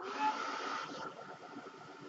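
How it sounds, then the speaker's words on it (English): Heat gun drying craft paper sprayed with water-soluble color, a steady broadband blowing hiss that holds close and even, fading slightly partway through with no voices. "Okay, let's hit that with the dryer."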